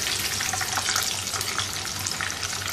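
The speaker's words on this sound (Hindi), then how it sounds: "इसको फ्राई कर लेंगे। तमाम चिकन फ्राई हो गया।" Chicken bites fry in hot oil with a loud, continuous, crackling sizzle that stays even and close throughout, with no talking.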